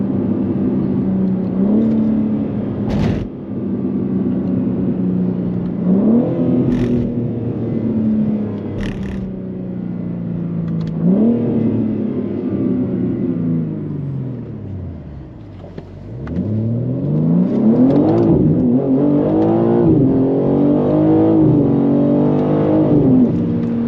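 A 700hp BMW G80 accelerating hard with repeated climbing engine revs through gear changes, loud and close from inside the car, continuous with no talking.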